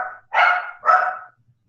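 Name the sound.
dog barking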